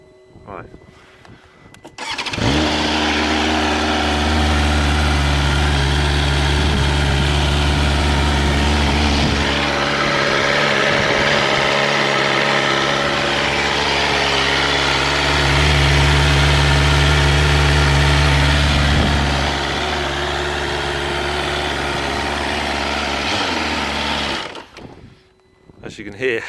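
A 2023 BMW S1000RR motorcycle engine starts and idles with a loud, close, clattery mechanical rattle, its revs rising briefly twice before it shuts off; wind noise and a voice are present at the start.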